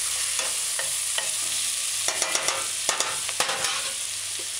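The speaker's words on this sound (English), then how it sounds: "Stir it in." Chicken chop suey with bone-in chicken pieces sizzling in a pan as distilled white vinegar is stirred in, a loud continuous hiss with a series of sharp scraping and tapping strokes from the spoon.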